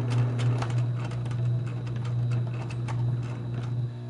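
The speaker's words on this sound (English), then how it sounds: "Then you're going to sew them together." Sewing machine stitching bias tape edges together on a blanket, running slowly in a steady, continuous mechanical hum with light ticking, close by and without talk.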